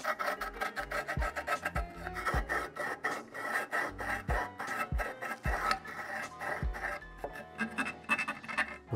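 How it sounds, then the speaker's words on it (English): Hand file rasping along the edge of a scooter deck's grip tape, a steady run of close, scratchy back-and-forth strokes in quick rhythm with no talking. "Oh, still have to file this part."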